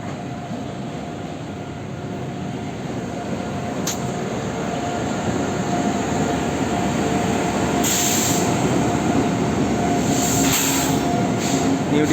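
The New Delhi–Dibrugarh Town Rajdhani Express rolls past without stopping, a loud, continuous close rumble of coaches and wheels that swells slightly and carries brief high wheel squeals, with no talking.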